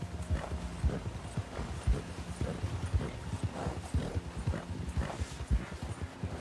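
Horse hooves clip-clop steadily in Red Dead Redemption 2, a rhythmic stream of hoofbeats at a walking pace, heard faintly and alone.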